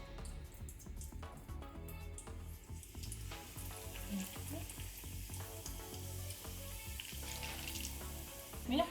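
Scotch eggs fry in about a litre of hot vegetable oil, giving a steady bubbling crackle over a low hum that swells slightly toward the end, with no voices.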